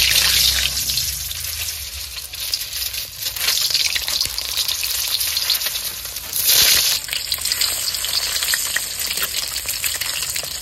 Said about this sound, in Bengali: তেল গরম হয়ে গেছে ডিমটা এখন আমি ভেজে নেব